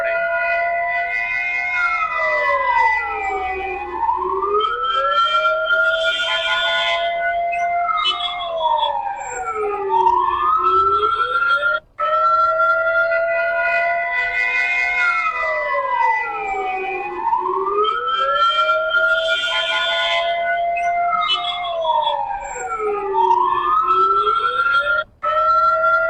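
An ambulance siren wails continuously, rising and falling in slow repeated sweeps, loud and steady on a street in Lebanon with faint traffic beneath.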